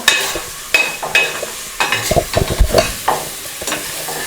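Ginger garlic paste fries in a pan for mushroom biryani while a spatula stirs it, giving repeated scraping strokes over a continuous close sizzle.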